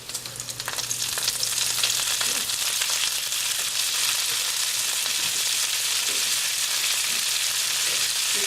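Bacon frying in a pan over high heat, a steady, dense sizzle that swells in within the first second and then holds loud and even, with small crackles and pops scattered throughout.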